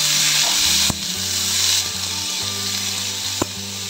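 Sliced potatoes frying in oil seasoned with asafoetida give a steady, close sizzle that runs throughout, with a few sharp clinks of a utensil against the pan.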